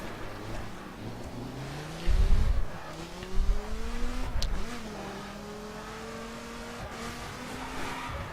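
SRT Viper GTS 2013 with an 8-liter V10 in the racing game The Crew, revving and accelerating through rising gear pulls with throttle lifts and a brief tire squeal, loud and close with no talking.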